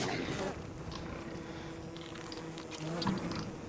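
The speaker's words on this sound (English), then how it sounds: "I'm gonna try and avoid the killer bees as much as possible" Killer bees buzz in the survival game Don't Starve, a steady droning swarm hum lasting throughout with brief louder swells.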